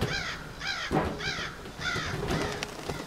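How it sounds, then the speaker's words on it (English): Crows caw in an indie horror video game, five harsh calls spaced about half a second apart, clear and fairly close over faint background ambience. "Is that just crows?"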